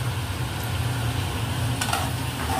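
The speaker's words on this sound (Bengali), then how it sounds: "ভালো করে নাড়াচাড়া করা হচ্ছে" Prawns and bitter gourd with turmeric are stirred in a pan, giving a continuous low sizzle and frying hiss with a few faint scrapes, close and steady, with no voices.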